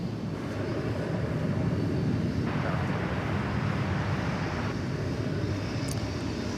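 An Airbus A321 airliner at DFW Airport gives a steady, broad jet roar that holds evenly across the whole stretch, with some wind buffeting on the microphone and no talking.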